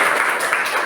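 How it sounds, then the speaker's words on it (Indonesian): Classmates in a classroom give a round of applause for a fellow student, steady dense clapping filling the whole short moment with no talk over it. "Tepuk tangan buat temannya."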